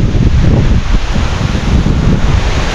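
Strong gusts of wind on an overcast midday among calamansi trees buffet the microphone in a loud, continuous low rumble, with a faint rustle in the background.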